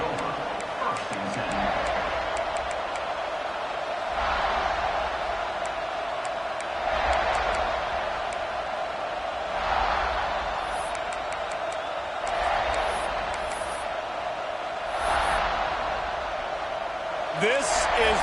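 Football stadium crowd at an NCAA game forms a steady, dense roar with periodic swells, running under continuous play-by-play commentary.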